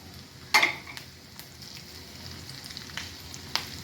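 Ginger, green chilli and curry leaves are frying in hot oil for Kanchipuram idli batter: a soft steady sizzle with a louder spatter as an ingredient drops in, plus a few faint stirring clinks.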